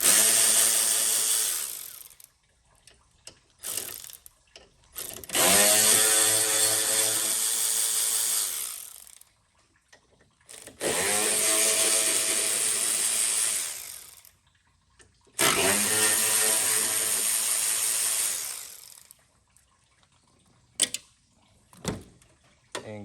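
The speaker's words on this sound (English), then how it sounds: "Take your 8 mils here loose" Power tool loosening 8 mm bolts on a 6.0 Powerstroke engine, in three long loud whirring bursts of several seconds each, separated by quiet gaps and a few short clicks.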